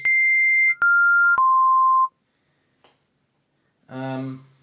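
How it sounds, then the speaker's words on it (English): Three steady pure sine-wave tones from a Korg Modwave synthesizer in sequence, each a little lower than the last, sounding close and clean, followed by a short burst of buzzy voiced sound. "setting both my oscillators here to sine waves"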